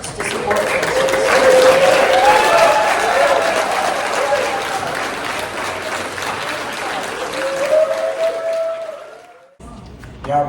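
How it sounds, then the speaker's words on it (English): Warm applause from an audience at a cannabis awards ceremony in Hawaii, a steady roar of clapping with cheers and voices mixed in, building early, then tapering off near the end before a brief pause. "let's give Dr. Susat a warm round of applause"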